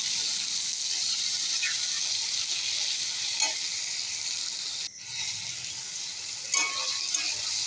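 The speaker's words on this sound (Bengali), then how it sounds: "পেঁয়াজ টমেটোর মধ্যে চিংড়ি মাছটা দিয়ে দেবো। চিংড়ি মাছটা দিয়ে একটু নেড়ে নেব।" Shrimp stirred and frying in a pan with onion and tomato, a loud steady close sizzle with a brief break midway and occasional scraping stirs, no voices.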